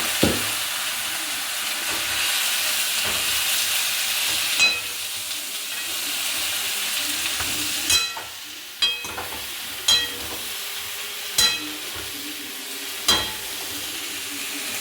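Washed mutton hisses and sizzles in a hot pan, a loud steady frying hiss with several sharp clicks and knocks of utensils against the pan, no talk.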